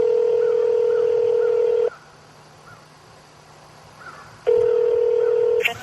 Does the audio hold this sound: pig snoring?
no